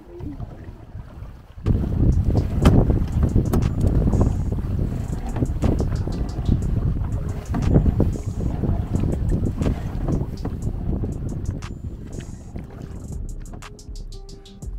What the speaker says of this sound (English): we're faced with another worthy adversary, the wind and waves